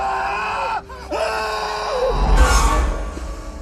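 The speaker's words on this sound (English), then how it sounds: "Delivering one of the most iconic screaming scenes ever." A scream from the horror film In the Mouth of Madness, starring Sam Neill: a strained wavering voiced cry that breaks off, then resumes and rises into a loud, harsh, noisy shriek that trails away.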